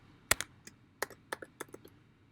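Keys clicked on a computer keyboard while typing track names in music production software, a quick irregular burst of about ten crisp, close taps, the first one loudest.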